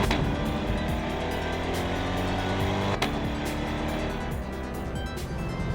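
A Chevrolet Corvette C8 driven quickly, its engine a loud, steady rising drone with strong low harmonics, heard from inside the car, with a brief gear-change dip midway.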